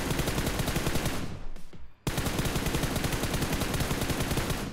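Rapid automatic gunfire in the battle royale game BGMI, loud continuous bursts of shots with a brief lull partway through before the firing resumes at full intensity.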